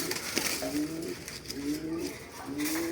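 High-flyer pigeons coo softly in a loft, several repeated low, rolling calls at moderate distance, with a faint human voice briefly in the background.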